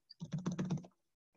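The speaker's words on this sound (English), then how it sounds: "We're just typing a whole bunch of shapes." Fingers tap quickly on a computer keyboard while coding in Python, a brief close burst of dense keystrokes followed by a pause and a few faint clicks.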